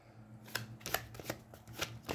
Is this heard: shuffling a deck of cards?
yes